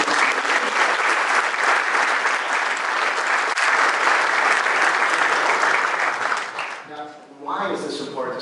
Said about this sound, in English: So let's give a big round of applause to the folks behind the scenes.